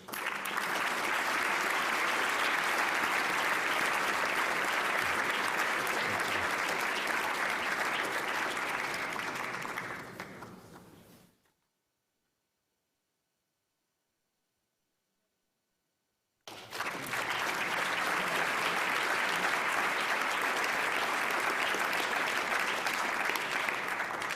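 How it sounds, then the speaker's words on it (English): A full hall applauds new members at an induction ceremony, with thick steady clapping that fades, breaks off into silence, then resumes at full strength. "another round of applause"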